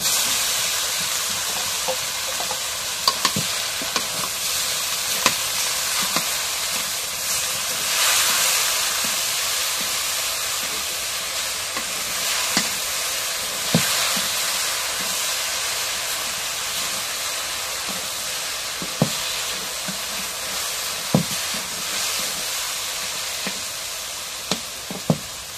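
Leafy greens (shak) fry in a pan with an even, hissing sizzle that carries on for a long stretch. Occasional sharp clicks of stirring come through, and no one talks.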